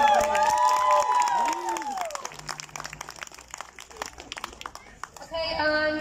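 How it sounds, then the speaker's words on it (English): Crowd applause and some cheering at a protest by mothers speaking out, scattered clapping rising in the middle amid voices and tonal sounds that open and close the stretch. "Round of applause for them"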